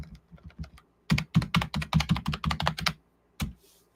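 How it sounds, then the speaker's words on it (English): Keys clatter on a gaming keyboard, starting with a few light taps and then a quick run of crisp, loud clicks in a steady burst, close up with no voices. "I forgot I have a gaming keyboard now,"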